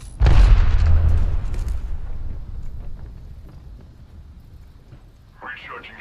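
A grenade explodes in a video game with a loud, deep boom that rumbles and fades over a few seconds, followed by a short burst of game sound.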